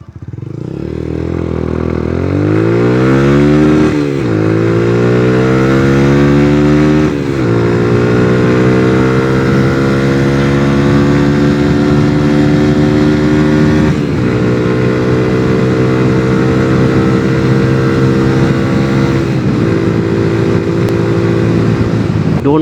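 A Suzuki Gixxer 155 motorcycle fitted with an Akrapovic exhaust makes a short drag run, loud and close, its engine revving up through several gears with rising pitch and brief dips at each shift.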